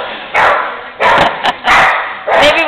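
A dog barks in loud, short bursts, about four clustered yelps and woofs with brief gaps between them, close by and with no talk over it.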